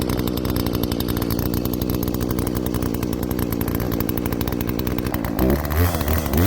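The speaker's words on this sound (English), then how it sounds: "It's running pretty good actually." A cheap chainsaw with a modified exhaust idles steadily while warming up, a loud, buzzing two-stroke drone heard up close, with the engine note shifting roughly toward the end.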